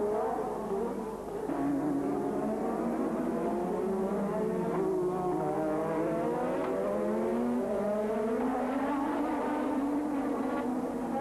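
1986 Formula 1 race cars scream past with high, wailing engine notes rising and falling through gear changes, several cars overlapping at steady volume with no talk.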